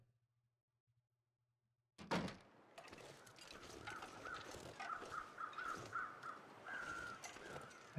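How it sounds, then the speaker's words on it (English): In the video game The Long Dark, after two seconds of near silence a door thuds, then several crows caw repeatedly over a noisy outdoor ambience. "I hear the crows circling the body"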